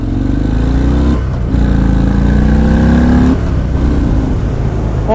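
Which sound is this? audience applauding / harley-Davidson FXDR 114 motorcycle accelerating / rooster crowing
harley-Davidson FXDR 114 motorcycle accelerating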